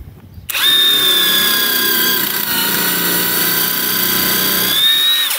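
A cordless impact wrench driving a screw into wood whirs steadily at high speed for about five seconds, loud and close, with little impact hammering, starting and stopping abruptly without talk.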